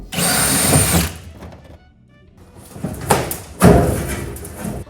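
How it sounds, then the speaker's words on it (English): A drill whines steadily for about a second as rivets are drilled out of a camper panel, then after a short pause comes a mix of clunks and rattling, ending in another burst of grinding noise. "First I've got to punch the centers out and then drill them out."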